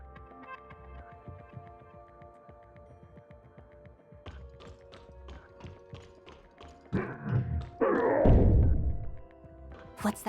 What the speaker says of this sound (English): It sounds like someone's banging on the door.